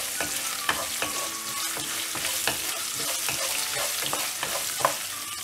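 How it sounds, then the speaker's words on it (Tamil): Ginger sizzles in hot oil for coriander thovaiyal, a dense crackling hiss close by with repeated sharp ticks of a spoon stirring the pan. "ஆட் பண்ணிவிட்டு இதை நல்லா எண்ணெயில் ஃப்ரை பண்ணிடலாம்."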